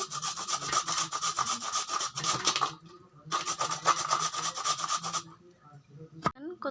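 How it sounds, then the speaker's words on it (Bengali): Raw papaya grated with a grating tool, heard as two close, rapid runs of rasping strokes separated by a short pause, ending with a sharp knock. "ভুজুরি মেশিন দিয়ে আমি এখন ভুজুরি করে নেব"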